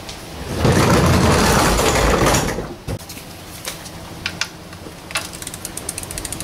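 Ratcheting and metallic clicking as a 19mm sump plug bolt is cracked loose on a 2009 Audi A4 Avant 2.0 TDI, starting with a loud sustained rasping burst and then thinning into scattered close clicks and light taps.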